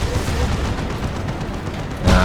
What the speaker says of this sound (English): Was that just a main cannon shot or what?